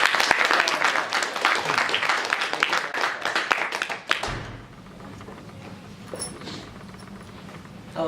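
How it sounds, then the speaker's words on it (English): Applause at a student club general meeting: a burst of clapping for about four seconds, then it cuts off abruptly, leaving quiet room noise with faint shuffling. "Give him a big round of applause."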